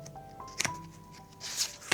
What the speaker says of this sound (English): Shuffle and pick the 6th card.